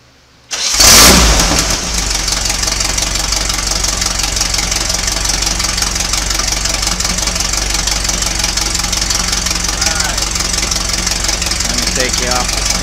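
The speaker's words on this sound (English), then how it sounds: "So the engine's cold, and we're just gonna do a cold start" A cold engine on a test stand cranks and fires with a loud burst, then settles into a steady, close, even running drone with a faint knocking texture throughout.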